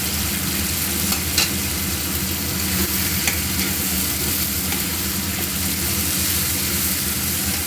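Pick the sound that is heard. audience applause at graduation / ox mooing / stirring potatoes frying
stirring potatoes frying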